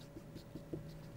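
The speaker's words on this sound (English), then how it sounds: "So let me write that here." A pen writing by hand on a surface, a few quick faint scratchy strokes in an uneven rhythm over a quiet background hum.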